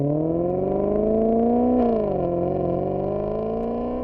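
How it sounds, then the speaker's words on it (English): A Maserati engine from Bologna revs with a deep, strongly harmonic growl, rising steadily, dipping briefly and then holding a rough, loud idle-to-rev tone, close and alone. "That is the sound of a unique car engine from Bologna since 1914."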